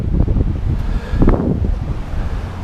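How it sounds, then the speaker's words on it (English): The Willamette River at high water runs fast, a loud broad rushing roar close by, mixed with wind buffeting the microphone. "It's a lot noisier here because the water is so fast."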